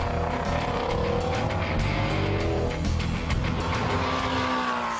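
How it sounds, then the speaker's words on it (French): A Ford Mustang Shelby GT350 with its flat-plane V8 engine screaming on a race track, loud high revving with gear changes and brief tire squeal, close and sustained. "ce son qui s'approche plus du moteur V10 que du roucoulement d'un bon vieux V8"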